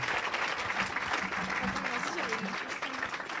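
A congregation at a church question-and-answer gathering in Evry claps steadily, dense continuous applause throughout with voices murmuring faintly underneath.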